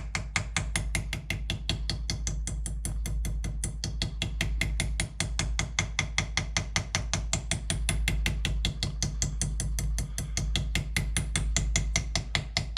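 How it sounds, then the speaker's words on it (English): A hammer taps steadily on a stuck ring to free it, giving a fast, even series of sharp metallic clicks that continues close and loud the whole time. "don't overdo it with the hammer, because that ring is just looking to break"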